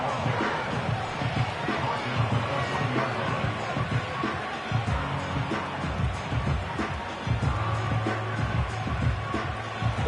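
A stadium crowd in the Madden 25 football game roars steadily throughout a Giants franchise matchup, a dense, continuous wash of cheering with low rumbles and scattered surges.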